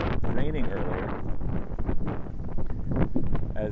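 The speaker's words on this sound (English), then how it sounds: "Windy on the chilly end, raining earlier." Gusty wind buffeting the microphone outdoors on a chilly, windy morning after rain, a constant roaring rumble under a person talking.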